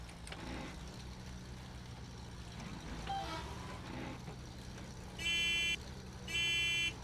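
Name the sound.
vehicle horn in video game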